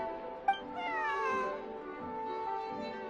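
A cat in the video game Genshin Impact lets out a drawn-out, wavering meow with a short sharp onset, clear and fairly close against a quiet background.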